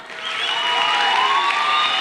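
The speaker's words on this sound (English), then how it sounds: "No, don't clap yet." An audience at a youth empowerment event in Mafikeng breaks into applause, a dense, even wash of clapping that rises quickly and holds steady and fairly loud.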